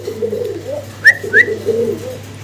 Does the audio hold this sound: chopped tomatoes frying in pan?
no